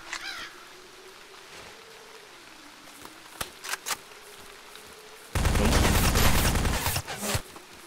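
Machine gun fire in the 2D survival shooter ZERO Sievert: a few scattered sharp shots, then a dense two-second burst of rapid automatic fire, loud and close.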